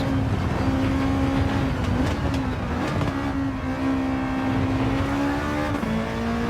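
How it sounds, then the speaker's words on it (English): A Honda engine in Gran Turismo 7 drones loudly and steadily at high revs, its pitch dipping on downshifts with faint pops in between. "I love this engine that just explodes on the downshift"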